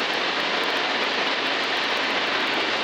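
A Zenith light aircraft flying past along the Pacific coast gives a loud, steady engine drone with broad wind-like roar, continuous and unbroken, with no voices.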